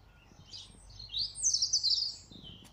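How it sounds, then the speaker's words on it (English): A bird sings in a park in Waterloo, Liverpool, England, a short run of bright, quick chirping trills that grows clearer and louder toward the middle, heard alone with no talking. "that's a beautiful bird song"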